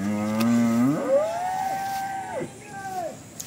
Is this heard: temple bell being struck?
no